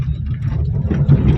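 A car engine idling close by with a low, steady rumble that swells slightly as the accelerator is gently pressed during a driving lesson.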